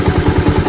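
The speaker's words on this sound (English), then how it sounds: "you will need to hold on the clutch and then switch on the bike" A motorcycle engine catches and chugs close by, loud and steady with rapid, even pulses in a brief burst and no voices.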